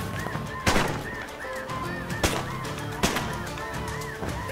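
Canada geese honk in rising, repeated calls during a goose hunt near Hudson Bay, broken by several sharp, loud shotgun blasts spaced about a second apart, with steady outdoor noise in between.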